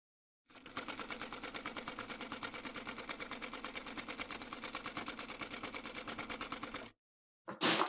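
A sewing machine stitches around the fabric of a drawstring bag in a fast, even run of close mechanical clatter lasting several seconds, then stops, followed by a brief restart.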